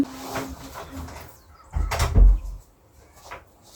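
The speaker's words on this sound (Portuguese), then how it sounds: "Deixa eu fechar a porta." A door swings shut indoors with a single solid thud and a brief rattle near the middle, preceded and followed by quiet room noise.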